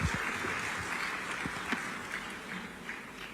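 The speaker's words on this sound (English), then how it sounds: "Please make her welcome with a round of applause." A conference audience at the 2026 3i Africa Summit gives a round of applause to welcome a panel moderator, a sustained, even roar of many hands clapping throughout, fairly loud, with scattered sharper claps standing out.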